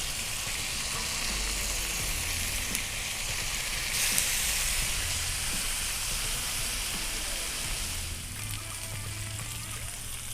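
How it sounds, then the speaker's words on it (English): Bone-in ribeye steaks sizzle on a flat iron grill, a loud, unbroken hiss and crackle of frying that holds steady for ten seconds with no talking. "The steaks have been cooking about 2 minutes, so now we're going to flip them"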